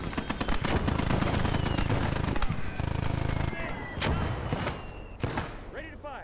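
Rapid bursts of gunfire and heavy artillery booms fill a US hardcore conquest war video game battle, dense volleys stacking into a loud continuous barrage with sharp cracks and deep thuds, a voice briefly audible beneath the din.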